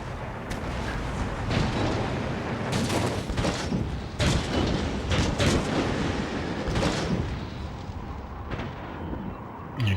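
An artillery barrage in Empire Total War with the Darthmod mod, a dense rolling roar of cannon fire with repeated sharp booms over a constant rumble, loud and continuous.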